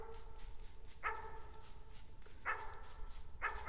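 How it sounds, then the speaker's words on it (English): A dog barking in the distance near a rural homestead, three sharp, evenly spaced barks over a steady low background hum, faint and far off. "Go check out that barking, Rio."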